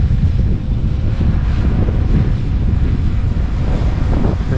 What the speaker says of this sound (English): It's really gusting now.